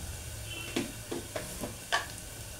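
Coriander powder, cumin and cinnamon powder frying in a pan while being stirred, a faint low sizzle broken by several soft scraping strokes spaced apart.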